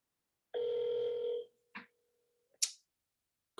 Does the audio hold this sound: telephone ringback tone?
yes